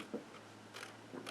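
Scissors snip through cardboard along score lines on an advent calendar box, a few short quiet cuts with small pauses between them, close and soft.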